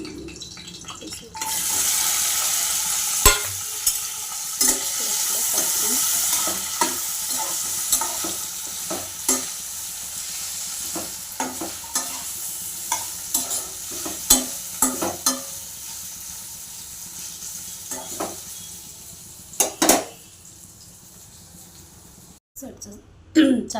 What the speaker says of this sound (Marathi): थोडं थोडं भाजून तूप घेऊन त्याच्यामध्ये भाजून टाकायचं आहे त्यांना।